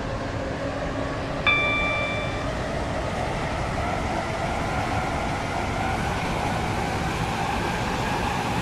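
A video game Waterline passenger train to James Street rumbles steadily, with constant wheel and motor noise, broken early by a brief chime tone.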